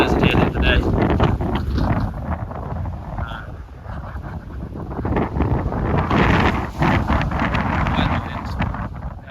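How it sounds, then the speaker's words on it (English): Strong gusts of around 40 mph batter the microphone outdoors on a wildlife walk, a loud rumbling roar that swells and eases in waves. "It's blowing 40-mile-an-hour gusts."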